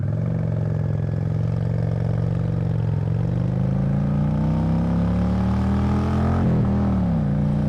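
A Honda Shadow 750 motorcycle engine, started cold, holds a loud, steady, throbbing idle up close, with a brief wobble in pitch near the end.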